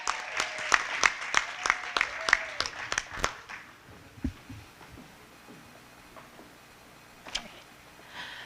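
An audience claps for a children's performance, a burst of sharp hand claps for about three seconds that quickly thins into a few scattered claps and quiet room noise.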